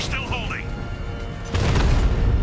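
Explosions and rocket fire thunder in the video game Batman Arkham Knight as a deep, loud blast bursts in halfway through over a rumbling backdrop. A voice speaks over the action.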